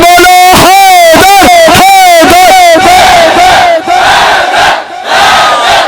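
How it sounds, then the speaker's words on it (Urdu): A large crowd at a religious gathering shouts a slogan in unison, with loud rhythmic bursts of many voices close by, followed by a denser, roaring collective shout. "وہ جو پیچھے بیٹھے ہو مل کے بولو"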